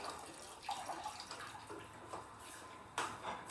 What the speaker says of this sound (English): it's just some liquid being poured